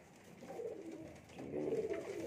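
Pigeons on a rooftop loft coo softly in low, murmuring bursts, faint and close, with a second swell of cooing near the end.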